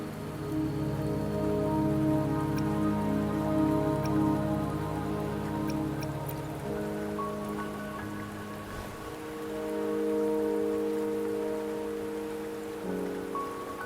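Steady rain falling in the video game Wuthering Waves, a dense close patter on surfaces running throughout, with a soft tonal music bed underneath and no talking.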